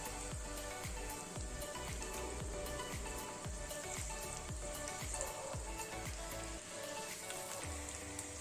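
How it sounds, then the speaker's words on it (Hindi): Semolina-coated fish tikka fries in a pan over a medium-high flame, giving a steady, dense sizzle with crackling pops throughout and no voices. "आप तब तक फ्राई करें जब तक ये पूरा ब्राउन कलर ना हो जाए"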